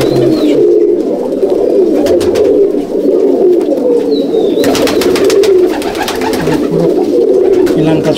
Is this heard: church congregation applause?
no